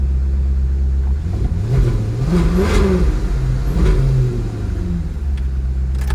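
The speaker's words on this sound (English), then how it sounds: "Let me rev it up a little bit, okay?" Maserati Cambiocorsa Spyder engine revving up from idle in two rising blips, a loud, close throaty roar that swells and falls back to a steady rumble, with no talking.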